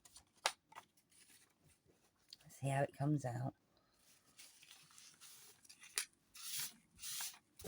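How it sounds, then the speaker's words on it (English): Scissors snip through a sheet of vellum paper to cut it in half at a papercraft table, a brief burst of crisp cuts amid quiet handling noises while a person talks before and after. "Yes, the trusty scissors are coming out."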